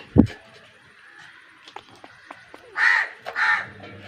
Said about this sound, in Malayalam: എന്താ കാക്കയ്ക്ക് വേണം ഓംപ്ലേറ്റ്